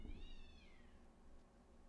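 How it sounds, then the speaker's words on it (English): A single drawn-out, wavering cat yowl, close and fairly loud, tails off after about half a second into a low background rumble, with no further cries. "I feel like I just heard cats fighting outside"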